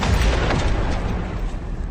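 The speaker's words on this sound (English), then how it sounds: "A smoldering fire finally reaches this T-72's fuel tank, blowing the hole open." A T-72 tank's fuel tank explodes as a smoldering fire reaches it in a war-game battle, giving a loud, dense, sustained roaring blast that fills the whole span without pause.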